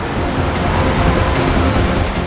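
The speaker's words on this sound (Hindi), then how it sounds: "गाड़ी तेज चलाओ" Car driven fast, a loud continuous rushing roar of engine and wind noise with no breaks and no voices.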